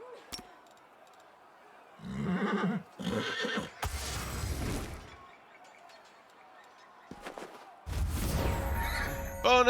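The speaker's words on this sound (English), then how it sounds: "these undead horses are tough." Undead horses in Pathfinder: Wrath of the Righteous give loud, harsh whinnies and neighs in several separate bursts, separated by quieter gaps with faint clattering combat sounds and no speech.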